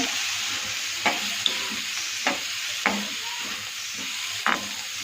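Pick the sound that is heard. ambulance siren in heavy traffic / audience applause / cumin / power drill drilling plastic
cumin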